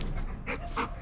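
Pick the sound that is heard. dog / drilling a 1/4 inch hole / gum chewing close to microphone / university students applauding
dog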